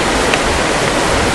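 Water rushes loudly and continuously at a diversionary dam of the Zamboanga City Water District, a dense, close roar with no pauses or talk.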